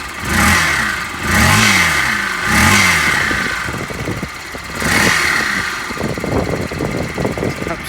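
A salvaged motorbike engine fires up and revs hard in repeated surging bursts, each rising and falling in pitch, then settles into a rougher, uneven running note, loud and close with no talk over it.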